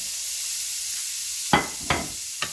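Firm napa cabbage hits a hot oil-filled pan for beef fried ramen, setting off a steady sizzling hiss, with three sharp bursts of louder crackle as pieces drop in near the end.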